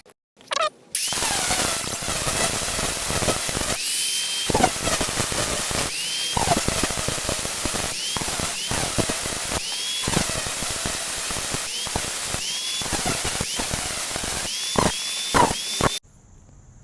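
A power tool cuts into a scrap washing machine motor at an old paper scrap shop, a loud shrill grinding whine that runs almost continuously with short breaks and changing pitch as the blade bites into metal.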